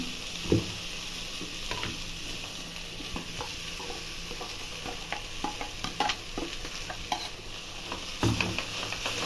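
Masala for a mixed sprouts sambar frying in a pan, with a constant close sizzle and busy, irregular scraping and clinking of a spoon stirring through it.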